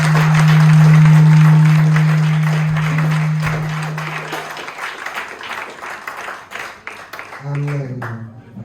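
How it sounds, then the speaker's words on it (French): A church congregation applauds during a Sunday worship service, a loud wash of clapping that swells under a sustained tone and then thins into scattered claps, with a voice speaking near the end. "Est-ce qu'on peut applaudir?"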